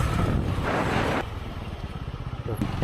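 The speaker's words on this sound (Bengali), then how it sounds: "পাহাড়ি রাস্তার আঁকা বাঁকা রোডে খুব সাবধানতার সাথে রাইডিং করে আমি আমার গন্তব্যের অনেকটা কাছে এসে পড়ছি" A motorcycle rides along a winding mountain road in Saudi Arabia, its engine drone steady and close. Wind rushes over the mic in the first second, then the motor rumbles on with a low, pulsing beat.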